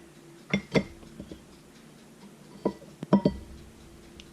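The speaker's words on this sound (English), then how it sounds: "So let me flip over my omelet." Omelet with bologna flipped in a pan: a few sharp clinks and soft knocks of utensil against pan, two clustered pairs of hits separated by a pause, fairly close with no talk.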